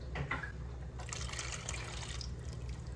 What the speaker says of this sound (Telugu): నీకు ఎన్ని కావాలో వాటర్ అన్ని పోసేయగా